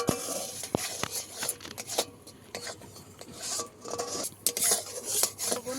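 A spatula stirs and scrapes caramel in a steel bowl, with irregular metallic clinks and rasping strokes that come close and fairly loud, and nobody talks.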